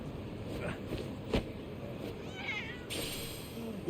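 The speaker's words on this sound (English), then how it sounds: "I hear a cat." A cat meows in the Lost Judgment video game, a few faint short mews over a quiet street-like game ambience with background hum.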